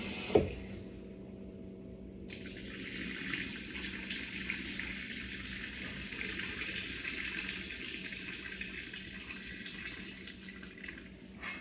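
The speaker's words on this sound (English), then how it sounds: "You can rinse these between 3 to 5 times after you soak them." Black-eyed peas are rinsed under a running kitchen tap, giving a soft, steady hiss of flowing water after a brief knock at the start, continuous and fairly quiet throughout, with no speech.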